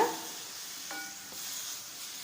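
Radish stir-fry with tempering and turmeric powder being mixed in a pan, giving soft scraping stirs and a faint steady sizzle, two brief spoon strokes standing out over the low cooking hiss.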